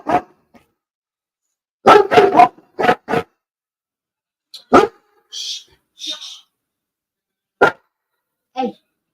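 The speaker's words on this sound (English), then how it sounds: "And so, of course, my dog's barking." A dog barks indoors in a string of sharp, close barks, some clustered rapidly and others spaced apart, with a few higher yips and whimpers in between.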